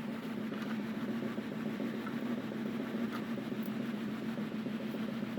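A Muxall Pro BBQ controller blower fan runs steadily at speed 80, giving a constant even whir with no talk over it.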